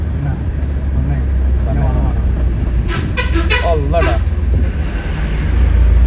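A lorry behind, trying to climb onto a narrow road near a bridge in Ponnani, sounds a cluster of horn blasts midway over a constant rumble of engines and road noise, while people talk nearby.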